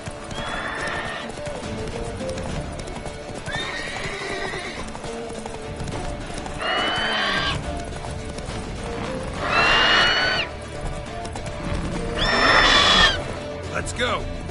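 Roach, the horse in the Witcher 3 video game, gallops with steady clip-clop hoofbeats beneath several loud, shrill neighs that come roughly every three seconds and grow stronger toward the end.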